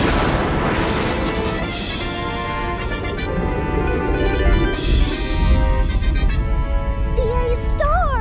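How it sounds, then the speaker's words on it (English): A cartoon star explodes in an animated children's astronomy show: a loud, sustained roaring blast with crackling debris and ringing tones, ending in a warbling, wobbly sound effect. "Our big, beautiful star just exploded into smithereens!"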